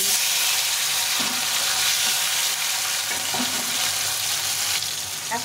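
Long-sliced tomato fries in hot oil with black cumin and green chillies, a dense continuous sizzle close to the pan with faint stirring scrapes underneath.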